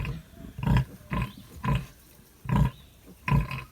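A mother pig and her piglets in a pen produce five grunts, each short and throaty, spaced about a second apart, close and fairly loud.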